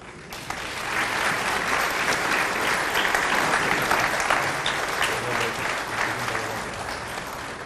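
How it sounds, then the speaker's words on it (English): Sustained audience applause at a California Wrestling Hall of Fame induction ceremony, a dense steady wash of many hands clapping that holds loud for the full length without talk. "Ladies and gentlemen, let's give another round of applause to Mr. Glenn Cooper."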